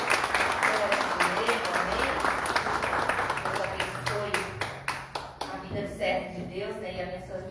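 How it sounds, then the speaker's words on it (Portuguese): Church congregation clapping in applause for the Lord during a service, dense rapid hand claps that thin into sharper individual claps, with voices speaking through it. "Uma salva de palmas do Senhor."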